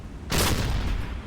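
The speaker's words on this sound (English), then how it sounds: "how can they not hear the explosion of my deck gun?" A submarine deck gun firing in Silent Hunter III, a single loud boom that bursts out after a short pause and trails off into a rumbling tail.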